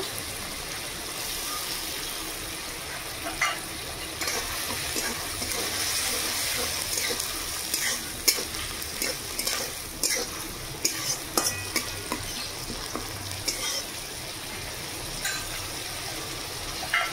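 Tomato paste and ground cumin paste fry with a little garlic paste in a pan, sizzling steadily while a spoon stirs and scrapes with frequent sharp clicks, close and continuous, with faint voices in the background.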